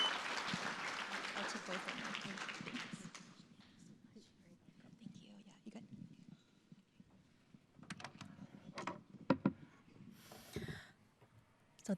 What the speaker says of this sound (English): Let's give Dr. Neena Nizar another round of applause.